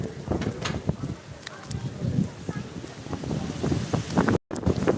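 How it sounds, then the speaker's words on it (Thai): Strong wind gusts buffet the microphone in the mountains near Moustiers, France, a rough roaring rumble with bursts throughout and a brief dropout near the end. "ลมต้านทานไม่ไหวแล้วค่ะลม มันคืออะไรคะนี่ลมแรงมาก"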